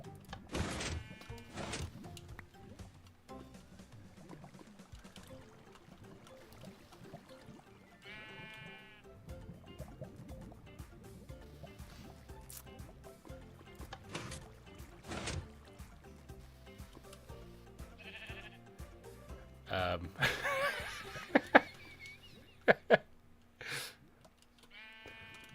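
Sheep bleat repeatedly in Minecraft, a series of wavering game-sound bleats spread across a quiet stretch, mixed with splashing water and boat-like sounds and a few loud sudden bursts near the end.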